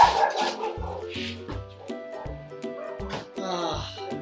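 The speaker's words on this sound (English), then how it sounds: "Get the dog excited." A dog barks excitedly in a home kitchen, a string of short, regular, close barks and yips spaced about a second apart.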